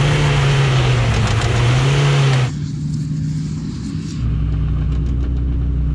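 A Ford Transit van's engine strains and revs hard against an F150 Raptor in a tug of war, a loud droning note that dips at a gear change and then settles to a lower, steady pull.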